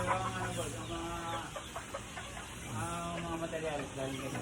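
Chickens and roosters cluck and call at a backyard game farm, a faint, busy mix of overlapping bird voices with a low background hum throughout.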